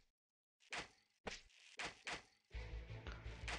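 Arrows shot in the Mr Bow stickman archer mobile game give a run of short sharp thunks and whooshes, about five in a row with brief gaps, followed by a denser burst of game effects over a low rumble.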